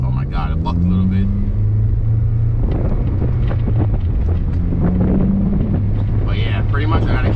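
A car breaking in a new Exedy Stage 1 clutch pulls away gently, its engine a low droning rumble rising in pitch under steady wind buffeting, while someone talks over it.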